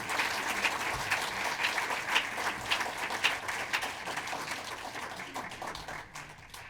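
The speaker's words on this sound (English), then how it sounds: "I want to give him a round of applause" Audience applause at a Board of Education regular meeting, steady clapping from a modest crowd that carries on for several seconds in a room and slowly fades at the end.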